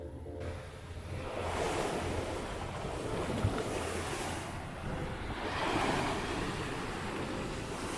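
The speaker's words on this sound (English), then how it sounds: "Here comes the waves." Waves break and wash along the Hawkesbury River shore in a continuous, broad rush that swells and fades twice, mixed with wind buffeting the microphone, with no talking.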